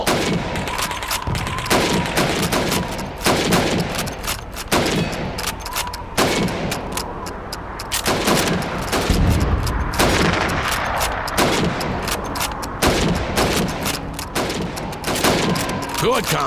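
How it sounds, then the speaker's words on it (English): Rapid gunfire in a Call of Duty 2 training range as a player shoots at helmet targets under a time limit, with sharp repeated shots in irregular bursts throughout, loud and close. "You have 15 seconds to shoot the helmets."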